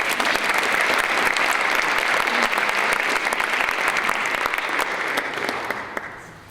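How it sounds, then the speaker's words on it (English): A lecture audience applauds after a talk on courage: full, even clapping from many hands, loud and continuous for several seconds before fading out. "Let's give them a round of applause"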